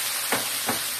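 Tomatoes with red pepper flakes, thyme and mint sizzle steadily in a pan, with two soft stirring scrapes cutting through the frying hiss about a third of a second apart.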